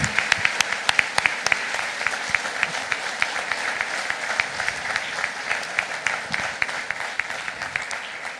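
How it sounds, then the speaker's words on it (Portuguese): An audience at a church convention applauds, a full, continuous clatter of many hands with sharp individual claps standing out close by, sustained at an even level throughout. "Aplaudimos."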